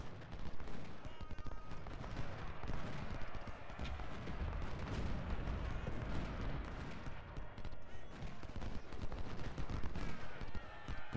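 Continuous battle din from a Civil War artillery battery in Ultimate General: Civil War, with dense overlapping cannon and musket fire rumbling steadily at moderate loudness throughout, no voices.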